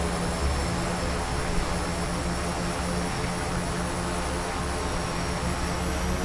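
A Quest Kodiak turboprop engine runs loud and constant in X-Plane 11, a dense, even roar with steady high whine tones and no change throughout.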